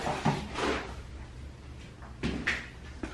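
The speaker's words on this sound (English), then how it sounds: "Close the door." A bathroom door at a South Padre Island staycation rental swings shut with a brief thud, followed by a few short knocks and clicks nearby in a quiet room.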